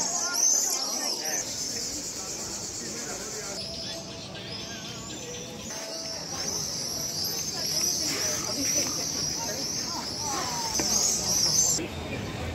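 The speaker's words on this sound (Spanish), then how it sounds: "Qué bárbaro la cantidad de aves." Flocks of birds chirping and twittering in a busy city plaza by the cathedral in Split, Croatia, at dusk, a dense steady chatter of bird calls over crowd murmur and general bustle throughout.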